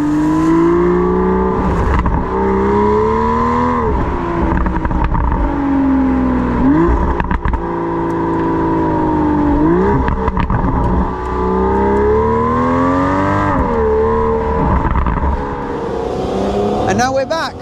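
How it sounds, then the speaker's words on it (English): Aston Martin V12 Speedster engine heard from the exhaust while driving open-top, rising and falling revs with a loud, continuous V12 drone and crackles on downshifts. "on downshifts it does some pretty cool pops and bangs"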